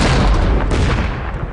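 Dense, rumbling bursts of gunfire and booming blasts roll together in a continuous loud barrage, close and heavy, with no voices.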